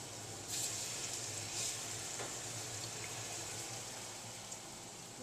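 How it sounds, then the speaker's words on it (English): Beef searing in a few tablespoons of hot oil in a pan gives a faint, steady sizzle throughout, with a few soft crackles and no voices. "we're just going to sear those on both sides for a few minutes on each side"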